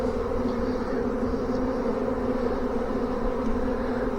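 A dense honey bee swarm hums steadily around a swarm trap, a close, continuous buzzing drone with a few individual bees whizzing past, no speech.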